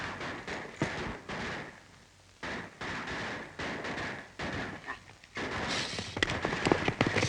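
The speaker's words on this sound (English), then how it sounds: "I'll go see what all the shooting's for." Gunfire in a 1930s Western: scattered sharp cracks and pops at irregular intervals, some distant and some nearer, mixed with outdoor rumble and voices talking over them.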